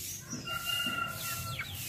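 Dumpo line chickens on a farm give off a crowing call and scattered clucks, close and fairly loud over a steady outdoor background.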